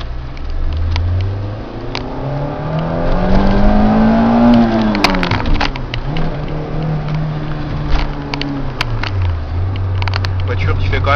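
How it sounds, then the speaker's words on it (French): Car engine humming while driving, a steady mid-loud drone whose pitch rises and falls with acceleration and gear changes, with someone talking over it from inside the cabin. "Voiture qui fait quand même un assez bon bruit, je trouve"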